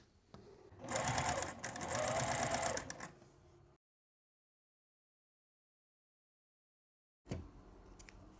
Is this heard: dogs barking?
no